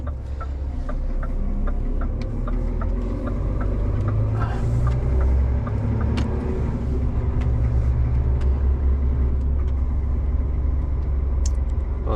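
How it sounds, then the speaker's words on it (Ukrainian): Cars rolling onto a small ferry in southern Norway on a cold morning, a steady low rumble of engines and tyres close by with faint clicks and knocks on top, no talk. "машини заїздять на паромчик"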